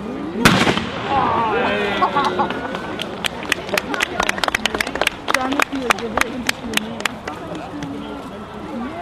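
Firework cannon blasts at an outdoor royal visit celebration: one big boom, then a rapid string of sharp cracks and pops, with a crowd and nearby voices talking throughout.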